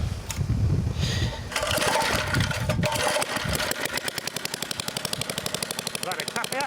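A restored Briggs & Stratton edger engine is pulled over, catches, and settles into a loud, rapid, steady putter close by after a few seconds of rough cranking noise and rustling.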